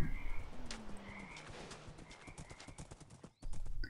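Minecraft horse hooves clopping in a steady rhythmic patter, with game ambience and a brief animal call, fairly quiet and close.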